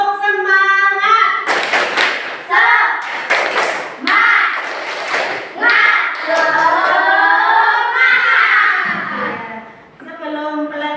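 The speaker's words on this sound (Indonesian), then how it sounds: "Tepuk semangat." Schoolchildren in a classroom do a rhythmic spirit clapping chant, with sharp bursts of claps between loud group chanting in set patterns. An adult voice leads before and after.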